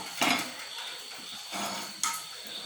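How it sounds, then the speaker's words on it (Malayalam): Liver fry is spooned from the pan into a serving bowl, two sharp metallic clinks of utensil against dish, close and distinct, with quiet room noise between them. "ഇനി നമുക്ക് ഇതിനെ സെർവിങ് ബൗളിലേക്ക് മാറ്റാം."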